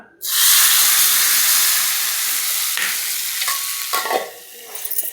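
A sudden loud sizzle bursts out as hot oil tempering with spices is poured into ridge gourd peel chutney, then hisses steadily with a few crackling spurts.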